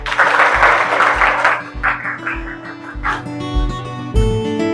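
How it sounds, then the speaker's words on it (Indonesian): Students in a classroom give a brief round of applause for a classmate that fades within about two seconds, followed by tonal sounds. "Tepuk tangan dulu untuk Astrid."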